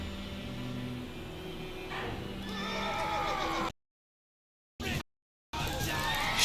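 A horse in The Witcher 3: Wild Hunt whinnies loudly amid clattering hooves and a busy crowd backdrop, with voices talking, before the sound cuts out abruptly and returns in short bursts.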